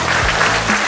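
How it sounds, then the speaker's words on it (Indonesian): Brief burst of dense applause at a Bhayangkara Day (Indonesian police anniversary) ceremony, honoring the police chief, steady and fairly loud throughout with no voice over it. "kita beri tepuk tangan untuk Pak Kapolres"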